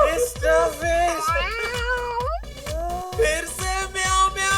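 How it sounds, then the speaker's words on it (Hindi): A cat meows several times with drawn-out, gliding cries, loud and close, over a steady thumping beat in the background. "फिर से म्याऊं म्याऊं किया।"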